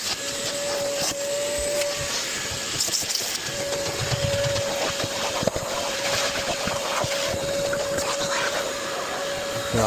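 A vacuum hoovers the interior of a dirty car thick with dog hair, a steady broadband roar with a faint whine running throughout, close and continuous with occasional bumps.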